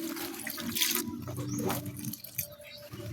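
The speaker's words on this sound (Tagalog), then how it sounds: "Kailangan giligan siya." Water poured from a container onto an apple seedling in potting mix, a close, splashing trickle that runs steadily then tapers off into drips.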